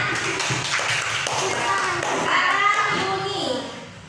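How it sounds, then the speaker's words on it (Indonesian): Schoolchildren in a classroom clap their hands together in a short burst of uneven, close applause, with children's voices chattering over and around the claps. "Tepuk tangan."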